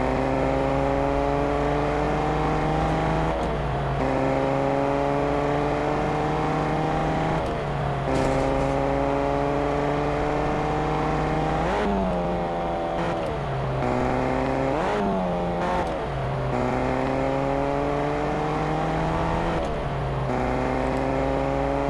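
Car engine in the Fortnite Chapter 2 Season 3 video game drives steadily and revs through repeated gear-like rises and drops, loud and continuous with no talk over it.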